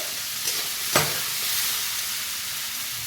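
Cut cucumbers are stirred while frying in a pan, giving a steady broad sizzle with a couple of brief scraping knocks from the stirring near the start.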